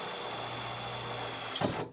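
A power drill running steadily with a larger bit to widen a hole in a 1998 Eclipse GS spoiler mount, a close, continuous whir that lifts into a brief louder burst near the end.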